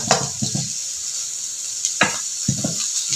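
A spatula stirs Javanese fried rice with salted jambal fish in a frying pan, scraping in short rhythmic strokes over a constant loud sizzle of oil.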